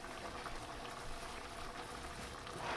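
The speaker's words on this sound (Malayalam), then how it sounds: "ഇതിപ്പോൾ നന്നായിട്ട് തിളച്ച് വരാൻ തുടങ്ങിയിട്ടുണ്ട്." Milk with ada rice pasta boiling in a pot for Ada Pradhaman payasam, a Kerala Vishu sweet: a steady close bubbling and simmering hiss that stays even throughout, with no talk.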